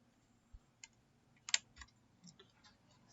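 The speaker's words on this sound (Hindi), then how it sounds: "कीबोर्ड से हम लोग प्रेस करेंगे Alt के साथ F3" Keys are pressed on a computer keyboard to run a Tally accounting shortcut, a handful of sparse, close plastic clicks with one sharper tap in the middle, in a quiet room.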